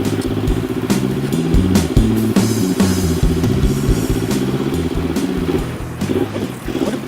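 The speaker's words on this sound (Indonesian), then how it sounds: "Kenapa nih motor gua?" A motorcycle engine runs close by with a steady, throbbing idle that holds for several seconds. Near the end it wavers and sputters slightly.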